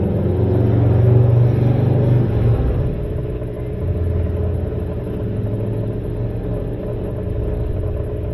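Whirlpool washing machine drain pump running, a low steady motor hum with a louder surge early on, then a continuous droning rumble.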